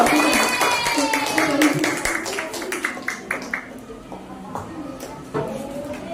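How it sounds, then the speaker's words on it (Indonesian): Students in a classroom clap for a group that has just presented, a quick burst of close claps that thins out into scattered single claps as a voice speaks over it. "tepuk tangan untuk kelompok visual"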